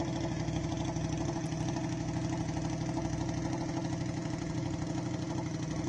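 KTM hillclimb race car engine idling at the start line of the Simola Hillclimb, a steady, busy mid-pitched burble with rapid lumpy pulsing, continuous and fairly distant.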